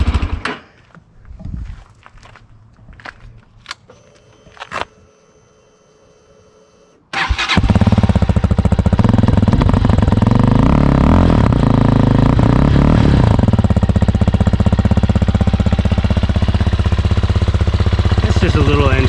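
Amazon X-Pro motorcycle engine idling close by: a few sparse clicks and starter sounds during the first seven seconds, then the engine catches and runs with a loud, steady drone that continues to the end.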